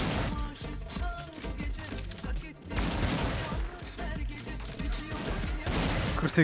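Gunfire in Counter-Strike 1.6 on a jailbreak server, dense and continuous with rapid shots and bursts throughout, loud and up close, with crashes and impacts mixed in.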